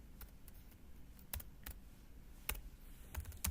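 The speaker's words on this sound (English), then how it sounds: "I'll just hit my keyboard a bunch of times" Computer keyboard keys struck in quick irregular bursts, sharp close clicks and taps scattered across a few seconds over a faint quiet room background, no talking.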